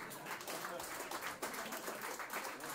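Applause from the non-smokers in a comedy club audience, a steady moderate clapping at a distance, with a voice briefly heard over it.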